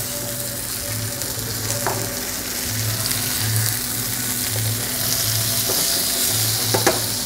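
Trout and vegetables sizzle steadily on a hot grill, a continuous close frying hiss with a low humming burner underneath and a few faint clicks as the pieces are turned.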